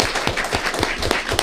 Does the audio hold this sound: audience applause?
yes